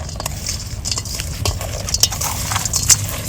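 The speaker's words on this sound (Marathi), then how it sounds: "आणि आता हे सगळं आपल्याला मिक्स करायचं आहे सो मी असं मिक्स करणार आहे" Crispy corn being tossed and mixed in a bowl, a steady close-up clatter and scrape of kernels and utensil against the bowl with irregular sharp clinks, no talking.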